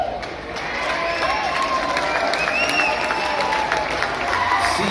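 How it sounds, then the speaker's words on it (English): Crowd at a concert applauds and cheers steadily, a dense wash of clapping with scattered shouts throughout. "you kind of clap like you're unsure"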